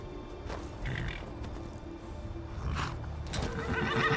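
In the video game Skyrim, a horse gives a few sharp whinnies against quiet background ambience, with faint hoof movement audible in between.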